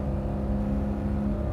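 Customer's car engine held at high revs in a performance shop, a loud continuous droning whir with a strong steady tone, brief and alone without talk.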